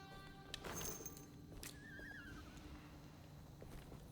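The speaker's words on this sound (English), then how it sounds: "I'm hearing like a weird horse in the distance or something." A distant horse neighs in the horror video game Alone in the Dark: a faint, wavering whinny rising and falling after a brief thump, over a low, murky ambient drone.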